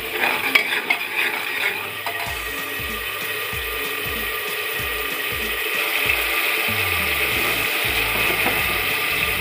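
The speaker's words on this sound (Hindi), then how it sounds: "हमारे मसाले भुन चुके हैं," Spices stir-fried in a pan on a high gas flame for a capsicum dish, with a continuous hiss under a rapid, rhythmic series of metal spatula scrapes and clinks against the pan.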